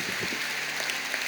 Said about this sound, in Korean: 여러분 우리 새로 오신 분들이 나가실 때 큰 박수로 환영하시길 바랍니다